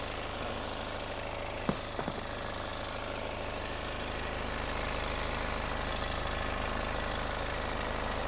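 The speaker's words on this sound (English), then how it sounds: "now we have to let the car idle for 15 minutes" Car engine idling, a steady low rhythmic hum with mechanical ticking close by, broken early on by a couple of sharp clacks before it settles into an even idle.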